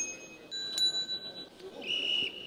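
A bicycle bell being pressed, giving a few bright metallic rings with a longer ringing tone near the end, heard up close against quiet background noise.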